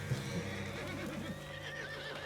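A horse whinnies in the video game Red Dead Redemption 2, a wavering neigh over a low hum and faint background noise.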